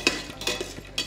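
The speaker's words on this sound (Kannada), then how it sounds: "ಚೆನ್ನಾಗಿ ಫ್ರೈ ಮಾಡ್ಕೋಣ." Vegetables for paneer pulao, including sliced beans and shelled peas, being stirred and fried in a pan, with a few short scraping clinks of a utensil against the metal over a soft background.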